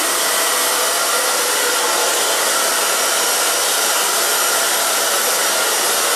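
A hair dryer blows loud and constant at close range while hair is dried in sections with a round brush, a steady, even roar throughout with no talking.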